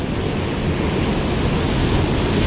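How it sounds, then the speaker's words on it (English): Steady, loud wash of ocean surf breaking and splashing close by on a Long Island beach during autumn striped bass surf fishing, with wind buffeting the microphone and no voices. "We're getting splashed by waves."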